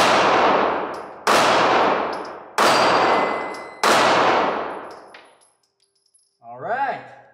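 Sig Sauer P938 micro-compact pistol firing at a steel target: four sharp, loud shots spaced about a second apart, each ringing briefly before decaying, then a short cheer afterward.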